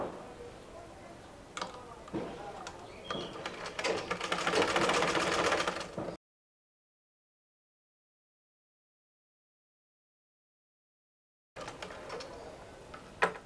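A domestic sewing machine stitches the hem of a pillow cover in two steady, fast-ticking runs separated by a stretch of silence, close and moderately loud with no talking.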